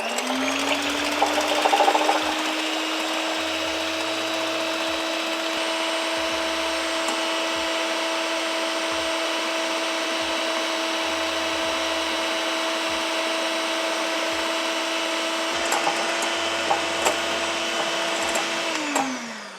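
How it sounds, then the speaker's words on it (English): An electric whisk whips cream with sugar in a steady, loud, continuous whine at constant pitch, running alone for nearly twenty seconds before spinning down at the end. "with an electric whisker, I'm going to whisk it up with nice and fluffy"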